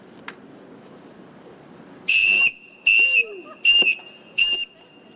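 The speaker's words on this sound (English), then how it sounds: "we have whistles, and I purchased these whistles just for today" Self-defense whistles blown at an anti-violence, anti-hate rally march in San Francisco, four loud shrill blasts in a row, each about half a second long, close by over low crowd murmur.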